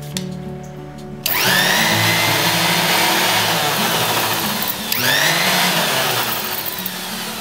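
A DWT EX03 125 DV random orbital sander, the 125 mm model, starts up loud and runs with a steady whine, briefly dips and then spins back up to full speed. No one speaks.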